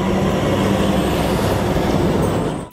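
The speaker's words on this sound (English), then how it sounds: "Would you rather hear trucks like these rolling through your neighborhood?" Heavy trucks rolling past on a roadway, a loud, steady broadband rumble of engines and tires that holds for nearly three seconds before dropping away abruptly at the end.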